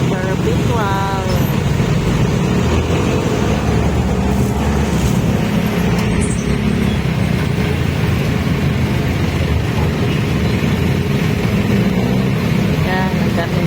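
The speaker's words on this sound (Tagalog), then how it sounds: "Yan, ang daming sasakyan dito." Heavy Monday-morning traffic jam on a busy city road, with a steady, loud low rumble of many idling and creeping cars and engines. The dense wash of vehicle noise continues unbroken throughout, with people talking faintly underneath.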